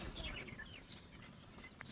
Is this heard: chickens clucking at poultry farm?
yes